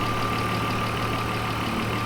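BMW E36 M3 engine idling steadily after a cooling system overhaul, a constant low hum with a faint whine, close by and continuous, no talking.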